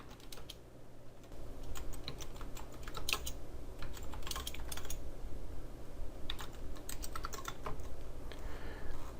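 Steady typing on a computer keyboard, a continuous run of close, clicky keystrokes with brief pauses, alone without speech, while writing a new line of HTML text in a CodePen editor.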